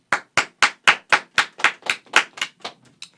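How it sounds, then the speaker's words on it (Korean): A BTS member claps his hands alone on a live stream: about a dozen crisp, close claps in a quick, even rhythm, softening and thinning out toward the end, with no talking over them. "짝짝짝 박수치라고 박수해 빨리."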